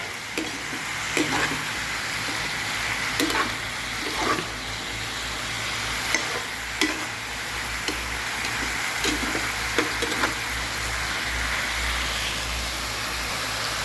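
Bottle gourd (upo) with a little broth in a pan, sizzling and bubbling steadily at close range, with periodic sharp scraping clicks of stirring.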